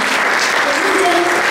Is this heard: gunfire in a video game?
no